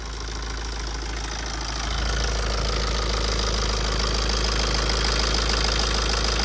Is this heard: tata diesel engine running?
yes